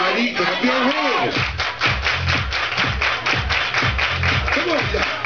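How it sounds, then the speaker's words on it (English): Crowd clapping hands in rhythm at a lively reunion cruise party, steady repeated claps over thumping music with a voice calling out over them. "Everybody clap your hands."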